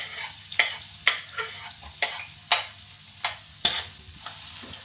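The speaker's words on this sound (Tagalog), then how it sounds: "So, bawang sibuyas. Lagay natin sa mainit na kawali." Garlic and onion sizzle in a hot pan (kawali) while being stirred, with steady frying crackle broken by regular scraping strokes of a utensil about every half second, close and with no talking.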